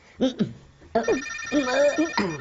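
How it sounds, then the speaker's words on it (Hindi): A telephone rings in short electronic bursts, mixed with brief voices nearby, ending in a longer sustained ring. "रात से ही फोन बज रहा है यार"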